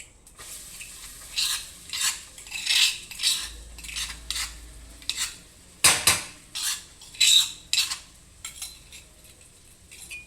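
Garlic frying in a pan for mango gojju, with a utensil scraping and clinking against the pan in repeated stirring bursts over a faint sizzle, no voices.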